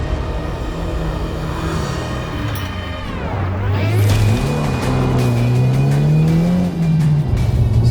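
A 2023 Subaru WRX with a manual gearbox runs flat-out on a dirt race track, its engine revving loudly through rising and falling pitch sweeps with gear changes, the note climbing steadily near the end, close and continuous.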